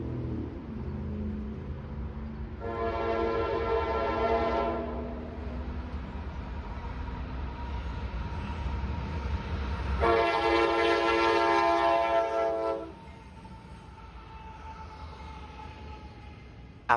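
An intermodal freight train rumbles past near Pittsburgh, sounding two long, loud multi-tone horn blasts a few seconds apart over the steady rolling noise of the cars.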